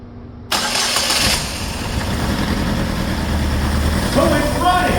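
A 2009 Saturn Aura with the 2.4 engine cranks briefly and then fires, settling into a steady, loud idle that carries on alone after the start.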